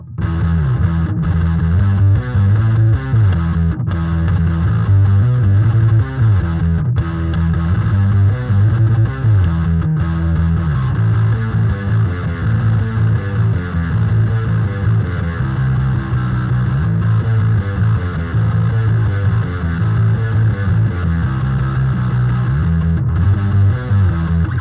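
A bass guitar through a Metal Zone distortion pedal with gain about halfway plays a steady, thick riff with a gritty, saturated tone, loud and continuous throughout.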